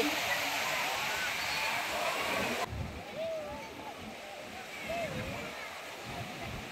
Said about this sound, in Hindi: तो पानी आ रहा है ना, तो अंशु डर रहा है